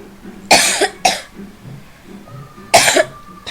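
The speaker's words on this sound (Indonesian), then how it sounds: "suara batuk yang kurang berkenan ya" Three sharp coughs from a person teaching an evening online lesson: two in quick succession, then a third after a pause, each loud and close against a quiet room.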